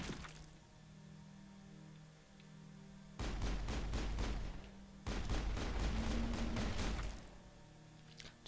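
Gunfire in the Mass Effect video game, two loud sustained bursts of rapid automatic shots, each lasting about two seconds, separated by a short pause over a low humming background.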